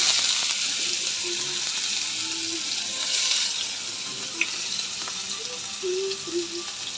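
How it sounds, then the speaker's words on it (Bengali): Chopped onions with a pinch of sugar fry in a pan in a home kitchen, giving a continuous bright sizzling hiss with occasional scraping stirs, close and steady throughout. "পেঁয়াজটা লাল লাল ভাজা হয়ে গেছে।"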